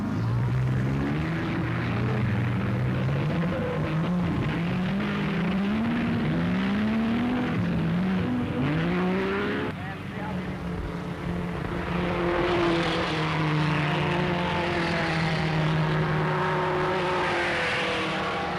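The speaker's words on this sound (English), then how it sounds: "Sound of those cars was something that the British public had never heard before." Silver Arrows racing cars roar past, their engines loud and continuous with rising and falling pitch sweeps as each car accelerates and passes, a dense mechanical drone filling the whole stretch without any talk.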